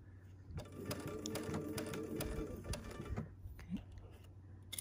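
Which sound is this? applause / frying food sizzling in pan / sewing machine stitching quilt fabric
sewing machine stitching quilt fabric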